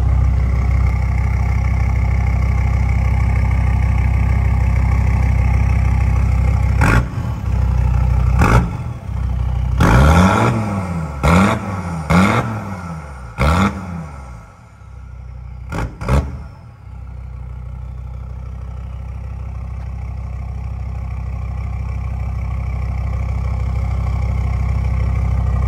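A Ford Ranger's 5-cylinder turbo engine, tuned to 382 horsepower, idles then gets several sharp blips of the throttle, with a quick burst of rising and falling revs in the middle before settling back to a steady idle.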